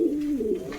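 A pigeon gives a single soft coo that lasts under a second, fairly faint and close, with no voices, as the birds are let go.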